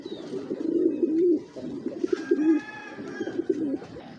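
Giribaz high-flyer pigeons, a large breed, coo softly up close in rolling, pulsing phrases, with a few faint chirps and rustles behind them.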